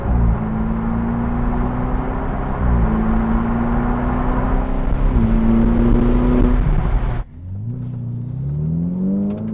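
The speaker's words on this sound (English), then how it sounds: "hear those turbos?" A Ferrari 488 twin-turbo engine fitted with a Kline Inconel exhaust revs up in rising, stepped pulls, its loud, raspy note climbing repeatedly before dropping off and building again.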